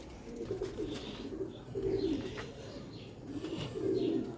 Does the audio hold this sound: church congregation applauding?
no